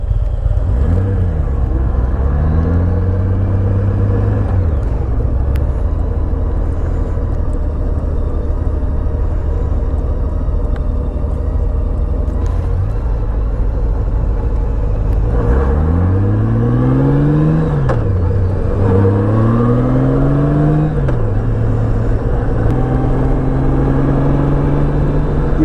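A Honda Gold Wing F6B motorcycle ridden at speed, its engine droning loudly and steadily over heavy wind rush, climbing and falling through repeated revving pulls and gear changes.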